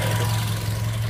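The upgraded engine of a 2014 Toyota Limo, a former Bluebird taxi, idles with a steady low hum and faint vibration, close by and unbroken for the whole moment.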